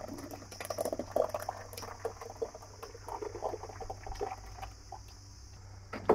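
A ground kadhi mixture of gram flour and yogurt bubbles in a pot over a flame, with soft irregular gurgles and pops at a moderate level and no voices.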